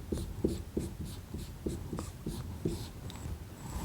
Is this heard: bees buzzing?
no